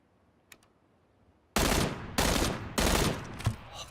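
Three loud bursts of burst-mode gunfire ring out in PUBG after a quiet start, each a tight rapid cluster of shots. A brief metallic click comes first.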